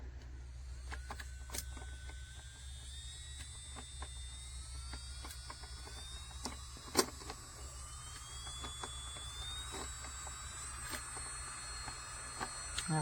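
An ANBEISTEE 45000 RPM electric nail drill runs with a quiet, steady electric motor whine that rises slowly in pitch, with small clicks scattered throughout.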